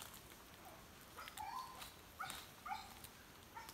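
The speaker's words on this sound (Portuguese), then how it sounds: "Passando o cachorro ali." A hunting dog passes by during a peccary hunt near a cornfield in the woods, giving a few faint, brief whimpers and yips over quiet outdoor background.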